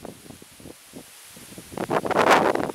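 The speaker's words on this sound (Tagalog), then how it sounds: "malakas pa rin yung hangin." Gusty wind from Typhoon Paeng in the Philippines buffets and roars, building from low rustling into a loud rushing blast toward the end.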